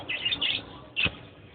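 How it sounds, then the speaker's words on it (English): Small birds chirping nearby outdoors, two bright bursts of tweets separated by a short pause, clear and alone with no talk. "Look at those birds. They are so pretty."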